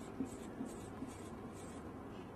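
A pen scratching steadily across paper while numbers are written down, faint and close, with a few light taps of the pen and no speech.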